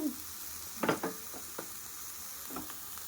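Cashew and makhana curry ingredients fry in a pan with a soft, steady sizzle, broken by a few stirring scrapes and clatters.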